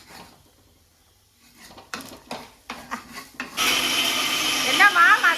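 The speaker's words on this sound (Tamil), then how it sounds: "என்னம்மா மசாலா அரைக்கிறியா? சரி சரிம்மா, அரை நல்லா நைஸா அரை." A mixer grinder grinding masala for a Chettinad chicken gravy in a village-style kitchen, starting with clinks and knocks before a loud, steady whirring grind that runs to the end, with some pitch shifts near the finish.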